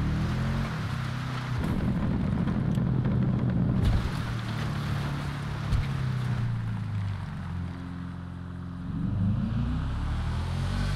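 A Karin Sultan Classic in GTA 5, built up as a Subaru Impreza GC8/22B rally car, roars at full throttle. The loud engine drone rises and falls through gear changes, with a fresh surge near the end.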